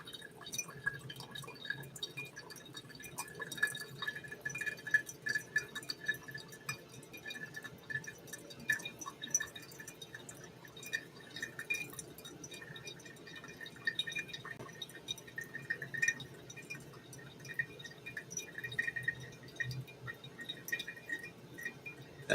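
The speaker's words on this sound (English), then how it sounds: "you kind of want to pour on the filter where the grinds are to like pull it down during each pour" Water from a kettle pours onto Kenyan coffee grounds in a Hario V60 filter, making a faint, continuous trickle with soft dripping that persists unbroken at low level throughout.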